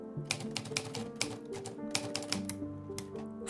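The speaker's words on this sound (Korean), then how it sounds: "피터는 홧김에 들고 있던 술잔 속의 술을 타자기에 부어버렸다" An expensive typewriter clacks with quick, uneven keystrokes, each strike sharp and close, in a steady burst of typing with no voices.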